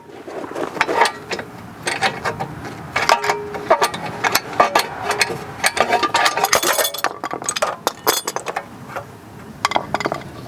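A ratchet works a nut off the lower control arm of a 2013-2017 Honda Accord, giving close, rapid metallic clicks and clinks in irregular bursts throughout, with no talking.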